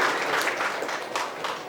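Audience applause fills the whole short stretch, a steady dense wash of clapping with no pauses.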